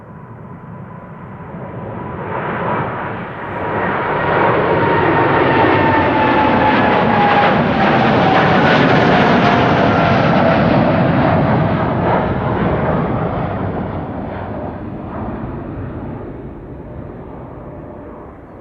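A KLM Boeing 787-9 Dreamliner at Amsterdam Schiphol roars past, its jet engines swelling into a broad, loud rumble with a whining tone that slides steadily downward, peaking mid-pass and then slowly fading as it moves away.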